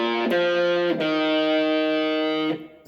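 Overdriven electric guitar rings out a short riff of three sustained notes, gritty and full, ending as the last note is cut off.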